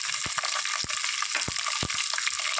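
Ginger and garlic sizzle steadily in a pan for a Kerala hog plum pickle, a continuous close hiss of frying broken by a few soft clicks as the spoon stirs.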